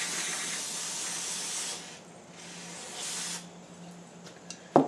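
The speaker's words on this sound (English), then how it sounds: "I'm spraying that crap everywhere" Two long hissing bursts of aerosol spray cleaner, close and fairly loud, with a pause between them and a sharp knock at the end, sprayed onto a 1968 Honda Trail 90 motorcycle.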